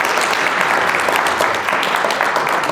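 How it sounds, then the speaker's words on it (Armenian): Church congregation applauding at a laying-on-of-hands service, steady dense clapping filling the room at full volume throughout. "շնորհքին ծափարեք։"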